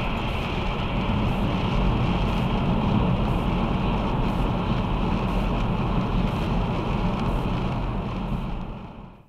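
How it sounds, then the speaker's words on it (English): A car driving along, captured by an AUTO VOX D1 dash cam, gives a steady, loud road and engine rumble with wind noise that continues unchanged before fading out at the end. "What you can hear in the background is the sound recorded by the camera as I'm driving along."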